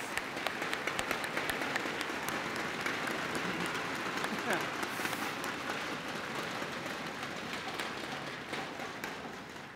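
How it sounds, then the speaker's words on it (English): A convocation audience at Richland College claps in sustained applause, a steady, moderately distant patter of many hands lasting the whole stretch and fading slightly toward the end. "Let's applaud their fine work."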